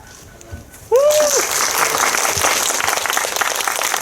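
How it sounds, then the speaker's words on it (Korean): A cinema audience at a film screening Q&A at Megabox COEX bursts into loud, sustained applause after a brief voice, the clapping filling the hall evenly to the end. "다시 한번 박수!"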